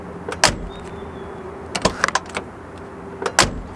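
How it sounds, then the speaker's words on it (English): A 1984 Porsche 944 door is opened and shut several times, giving a few sharp, close solid thunks and latch clicks separated by short quiet gaps. "Here's some door ASMR for you."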